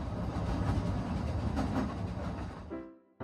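A narrow gauge train on the Leighton Buzzard Railway runs with a steady, close rumble and rattle of wheels and carriages, then the noise drops off sharply near the end, leaving a brief low hum.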